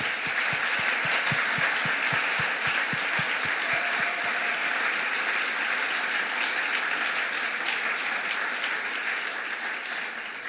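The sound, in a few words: audience applause at closing ceremony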